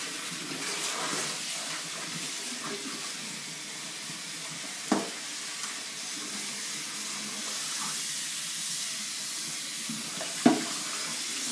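Tap water runs steadily into a kitchen sink being cleaned before mustard greens are prepared, a continuous close hiss broken by two sharp clunks partway through, with no talking.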